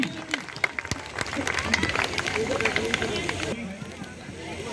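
Crowd clapping for police cycle rally riders arriving at a welcome ceremony in Mohammadpur, a loud, dense burst of applause and hubbub that fades out abruptly toward the end.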